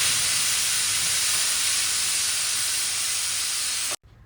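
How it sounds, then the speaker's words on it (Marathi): Pressure cooker whistle releasing steam while cooking vegetables, a loud continuous high-pitched hiss that holds steady for about four seconds and then cuts off abruptly. "कुकरचं झाकण लावून आपल्याला कुकरची 1 शिट्टी करून घ्यायची आहे."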